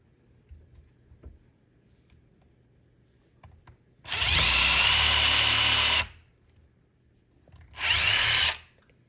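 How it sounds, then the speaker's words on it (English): A power drill whines loudly while drilling into a front door for new hardware, in two bursts, one long run of about two seconds and a shorter one after a pause, over faint background noise. "don't stop the drilling unless you're tired or you cannot"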